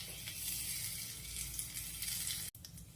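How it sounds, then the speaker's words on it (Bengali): Two dried red chillies and two bay leaves crackle and sizzle in hot oil in a home kitchen, a soft, continuous frying hiss with a brief sharp clatter near the end. "তেলের মধ্যে দিয়ে দিলাম 2টো লাল লঙ্কা, আর দিচ্ছি 2টো তেজপাতা"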